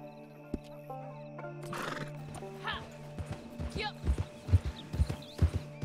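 A horse in the video game Red Dead Online whinnies, then its hooves clip-clop in quick, rhythmic thuds that grow louder and closer, with breathy snorts between them.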